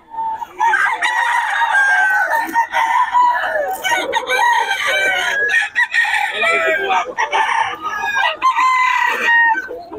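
Several roosters crow loudly and repeatedly at close range in Bocaue, with overlapping calls and clucks filling the whole stretch and voices faintly in the background.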